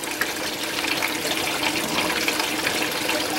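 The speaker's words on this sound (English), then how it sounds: "it's just enough water to separate it out, get it thin" Water rushes steadily through a gold sluice as a close, continuous broadband gush that stays even and loud throughout, with no talking.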